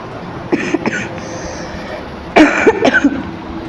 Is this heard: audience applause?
no